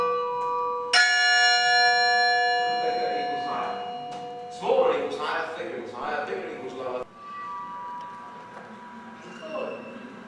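A cast bronze bell struck in a bell foundry, ringing with a long sustained hum and shimmering overtones, a second strike joining as someone speaks over the decaying tones.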